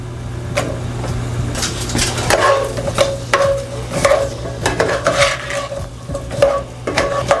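Halved carrots seasoned with black pepper are stirred in a pan, a utensil scraping and knocking in a loose rhythm of close clacks over a low background sizzle.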